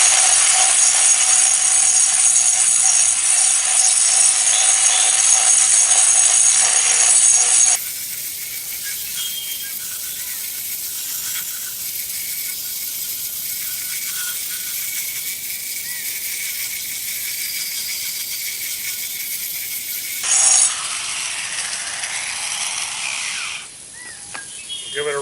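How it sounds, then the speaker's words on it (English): A 4-inch turbo diamond cup wheel on an angle grinder wet-grinds a concrete surface, a loud, steady high-pitched whine with a shift in pitch partway through as the wheel bites and eases off. "So here we go with a wet grind."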